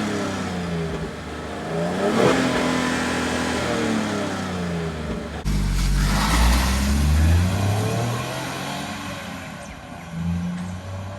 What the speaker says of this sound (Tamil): ஸோ மேட் பிளாக் எக்ஸாஸ்ட் வாங்கி இன்ஸ்டால் பண்ணியிருக்கேன்.